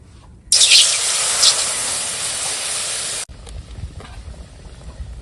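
Water poured onto roasted semolina in a hot pan, bursting into a loud steady sizzling hiss that runs for about three seconds, then stops abruptly and leaves quiet kitchen background.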